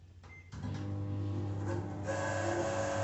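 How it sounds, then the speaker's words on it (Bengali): Samsung microwave oven with a faulty fan motor, running with a steady droning hum and a whirring, rattly mechanical whine that grows louder after a brief quieter start, with no talk over it. "ফ্যানের মোটরটা নষ্ট হয়ে গেছে। মোটরটাই আওয়াজ হচ্ছে।"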